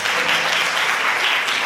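Steady, loud audience applause fills a hall at the 2023 Chungbuk youth FameLab final as a student is honored, an even wash of many hands clapping without pause.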